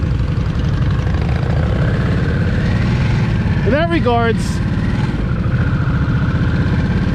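A 2023 Harley-Davidson Nightster Special with its water-cooled Revolution Max engine idles as a steady low rumble beneath someone talking throughout.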